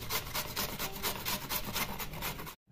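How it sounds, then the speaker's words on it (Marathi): A carrot rubbed on a grater makes a continuous close rasping, scraping sound with a quick repeating rhythm that stops abruptly near the end. "पूर्ण असं गोल गोल फिरून गाजर किसून घ्यायचं"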